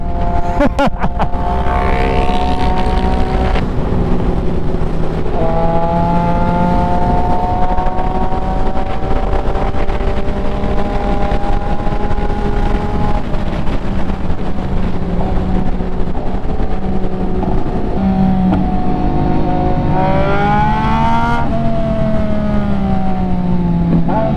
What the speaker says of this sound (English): That SC Project exhaust is singing today.